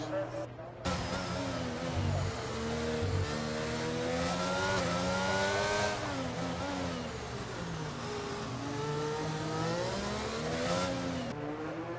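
An F1 race car engine whines steadily in a racing video game as the car leaves the pits at Monaco. Its pitch rises and falls with the gear changes, and a commentator talks over it.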